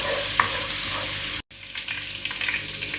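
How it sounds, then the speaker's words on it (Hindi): Ginger garlic paste sautés in a hot pan with a dense, close sizzle that cuts out briefly, then resumes with lighter crackling and small spatters. "इसको 3 सेकंड के लिए हल्का सा सौते कर लेंगे, हल्का सा फ्राई कर लेंगे"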